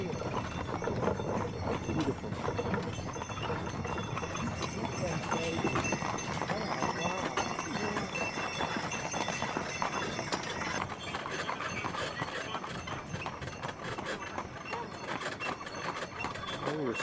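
Horse hooves clip-clop steadily as a horse pulls a car along a horse-drawn line high up, with a continuous rumbling, rattling ride noise and faint voices throughout.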